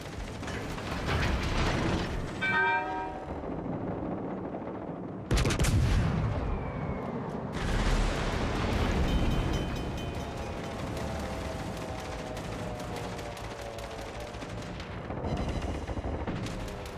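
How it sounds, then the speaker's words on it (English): Video game gunfire with bursts of shots, mechanical clanks and whining ricochets that ring off and fall in pitch, loud and close, with no voices. "Shots are right where they fucking need to be, and it's just, I'm getting nothing but fucking ricochets"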